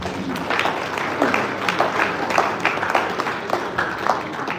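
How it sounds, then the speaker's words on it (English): Audience applause at an investment promotion agency event in Rivers State: a moderate, steady round of clapping from a seated crowd, even and sustained throughout, with no voices over it. "let me just give yourselves a wonderful round of applause"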